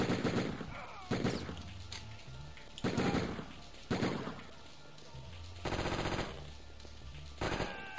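Bursts of machine gun fire from the video game Die Hard Trilogy, set in an airport, come in several sharp, loud volleys separated by short pauses, with game sounds between them.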